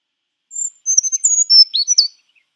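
A bird sings its full song: a quick run of high, clear chirps and whistled notes lasting about a second and a half. The song is close and loud against complete silence.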